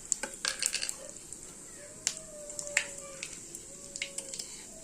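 White cumin seeds and bay leaves hit hot oil in a home kitchen while dal is being started, giving a sparse crackling sizzle with scattered sharp pops and a faint clink of utensils close by.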